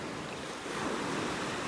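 Small ocean waves wash steadily onto a beach in North Naples, Florida, at high tide, a continuous soft surf hiss with light wind, no voices.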